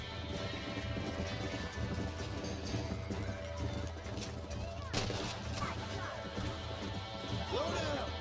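Horse galloping in the Red Dead video game, a steady run of hoofbeats under game music and gunfire, with a voice talking over it.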